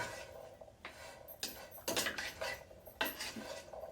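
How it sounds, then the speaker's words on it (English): A metal spoon clinks and scrapes against a pan while spices are mixed into boiled chana, a series of irregular sharp taps and scrapes, close and fairly quiet, with no voices. "I'm going to mix all the spices inside this."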